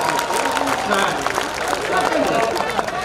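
Seated audience at a Hindi comic poetry gathering applauding steadily, a continuous bed of clapping with voices and crowd noise running beneath it.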